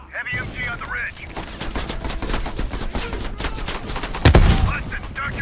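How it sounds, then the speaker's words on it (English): Heavy machine gun fire in a Call of Duty Black Ops Cold War battle on a ridge, rendered as dense rattling bursts, with a louder close impact near the end. Game voices chatter briefly at the start and the end. "Watch it. Heavy MG on the ridge."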